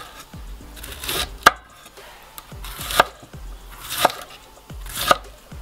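A knife shreds cabbage on a board in crisp, evenly spaced chops, about one stroke per second, close and clear, with a faint scraping between cuts.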